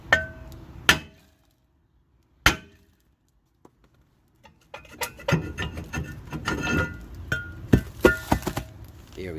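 Hammer striking a rusted rear brake rotor on a 2011 Camaro SS, with two sharp metallic clanks separated by a pause, followed by a stretch of busier clattering and knocking.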